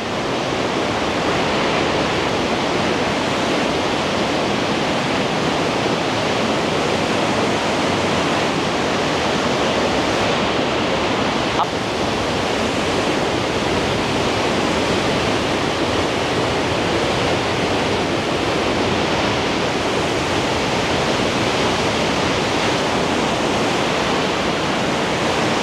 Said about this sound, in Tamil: பாருங்க தண்ணி எப்படி போயிட்டு இருக்குன்னு